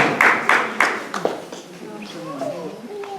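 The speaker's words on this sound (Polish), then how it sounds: "Duże brawa dla Leny oraz nagroda" A few sharp, scattered hand claps greet the winner of a Christmas tree ornament contest, quickly fading as a voice begins speaking nearby.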